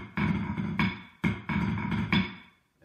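A snare drum plays the opening bar of an orange-and-blue exercise, starting with a pickup note. Two matching phrases of crisp, close hits sound in a quick, even rhythm with a short pause between them, and no one talks.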